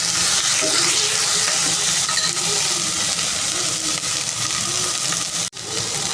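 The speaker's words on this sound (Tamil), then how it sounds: "அதுக்கப்புறம் தக்காளி அதுக்கப்புறம் கொத்தமல்லி இதெல்லாம் போட்டிருக்கேன் இது நல்லா வதங்கட்டும்" Onion, ginger-garlic paste, tomato and coriander sautéing in a pan, a loud continuous sizzle with scraping stir sounds and a brief clatter near the end, no talk.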